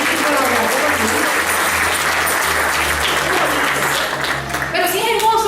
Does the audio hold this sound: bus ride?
no